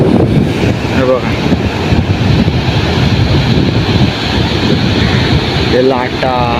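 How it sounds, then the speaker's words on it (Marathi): Ocean waves wash in along a Konkan beach at Malvan in Sindhudurg, a continuous broad roar of surf mixed with wind buffeting the microphone. Brief voices break in near the start and again near the end. "ते लाटा,"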